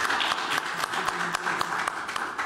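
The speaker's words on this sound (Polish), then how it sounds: "Wielkie brawa zarówno dla pani Marii, jak i dla pana Eugeniusza" Audience applause for two quiz show contestants at a competition final, a dense steady patter of many hands with a few sharper claps standing out, moderately loud and continuous throughout.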